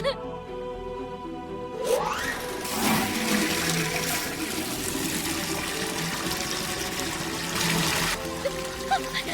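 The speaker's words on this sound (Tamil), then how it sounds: "தண்ணி திரும்பவும் கொட்டுது" Water gushes and splashes continuously, a broad rushing flow that starts after a brief quiet moment and keeps pouring at moderate loudness.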